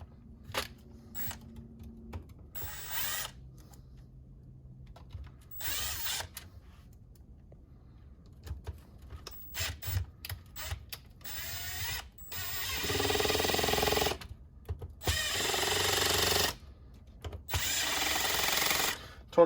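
A power tool drives the three solenoid screws on a 48RE transmission in short whirring bursts between quiet pauses, the later runs longer and louder, close up and with no speech.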